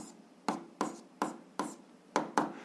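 A pen writes on paper while an algebra exercise is being worked, giving six short, evenly spaced scratching strokes, close and fairly quiet.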